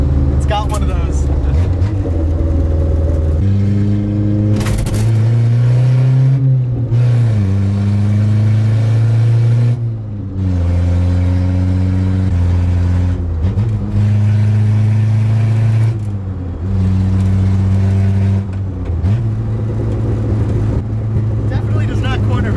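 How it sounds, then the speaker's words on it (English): A lowered Toyota Corolla drives on backroads with a steady, loud engine drone that climbs in pitch as it accelerates, then drops briefly at the gear shifts. Occupants talk over the engine. "you'll accelerate and you feel like, okay, I'm building speed, and then it just gets so much louder"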